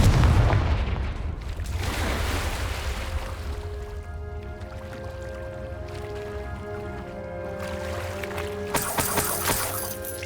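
A Confringo blasting spell bursts in Hogwarts Legacy with a heavy boom and rumbling decay, followed by a sustained humming drone, then a crackling, sparkling burst near the end.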